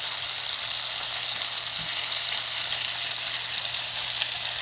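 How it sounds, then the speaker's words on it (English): Salisbury steak patties searing in a pan give a loud, dense, continuous sizzle, close by and unchanging for several seconds, with a faint low hum underneath and no talk. "Then we're going to flip it over and sear the other side."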